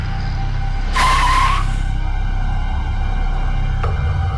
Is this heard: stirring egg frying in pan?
no